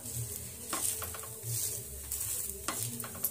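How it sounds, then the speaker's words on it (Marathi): A green moong dosa roasting on a hot pan, giving a continuous soft sizzle broken by light scraping and a few sharper crackles, close and fairly quiet. "मस्त असे भाजून आपला डोसा तयार झाला आहे"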